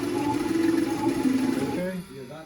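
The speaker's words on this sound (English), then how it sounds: "the oil pump is making kind of noise" The old dry-sump oil pump of an Audi RS6 V10 engine turns slowly, a steady whirring hum with a faint mechanical whine that drops off near the end, with people talking over it.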